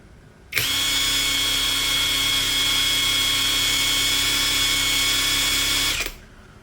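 NRT Pro TX30DC cordless impact wrench switched to its high speed setting, spinning freely at around 2000 RPM with a steady whine that starts abruptly, holds at even volume for several seconds, then winds down; close and loud, no talk.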